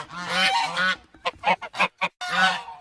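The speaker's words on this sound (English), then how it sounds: "G is for goose." A goose honks loudly and close: two drawn-out nasal honks, then a rapid string of short choppy calls, and one more long honk, with no voices.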